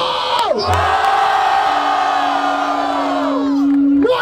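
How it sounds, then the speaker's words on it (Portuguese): A crowd at a Brazilian freestyle rap battle in Barueri, São Paulo, erupts in loud, sustained cheering and whooping, with a few shouted voices rising above the roar for about four seconds. "Barulho para as irmãs do Tito!"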